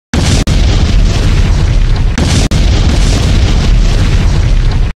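A loud, sustained animated explosion blasts as a McDonald's restaurant is destroyed, a dense roaring boom broken by two brief cutouts and lasting about five seconds with no talking.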